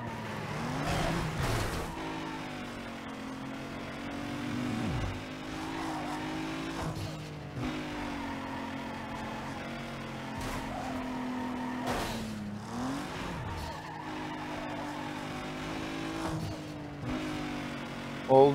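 Engine of a car racing on winding roads in Need for Speed Underground 2, a steady loud revving drone with rising and falling pitch through gear changes and brief tire squeals, continuous throughout with no talk.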